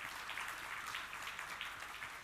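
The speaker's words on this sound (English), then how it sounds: "We can give them a round of applause" Steady applause from a crowd at an economic forum hall, moderately faint, with continuous clapping throughout and no talking.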